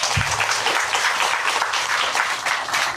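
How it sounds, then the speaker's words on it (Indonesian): Audience applause at an Indonesian motivational seminar on quantum physics and abundance, a steady dense wash of clapping filling the whole stretch at moderate loudness with no talk over it. "Boleh tepuk tangan dulu dong."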